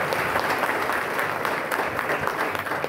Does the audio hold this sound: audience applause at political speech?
yes